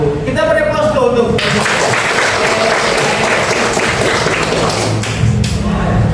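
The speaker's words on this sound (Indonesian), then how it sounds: "Kita beri aplaus dulu untuk" Audience applause rises after a speaker's voice and keeps up as a dense, steady wash of clapping from a crowd, fairly loud and near, with some speech at the start and end.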